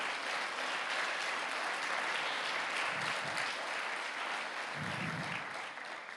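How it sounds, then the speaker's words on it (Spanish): A church congregation claps in praise during a sermon, a dense, continuous wash of applause from many hands that holds steady throughout with faint low murmurs mixed in. "Dale un fuerte aplauso a él"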